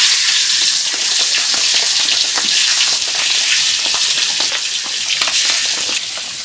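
Spiced meat marinated with salt and ginger-garlic paste frying in hot oil for a wedding-style roast, giving a loud, steady sizzle with crackling pops throughout, no voices.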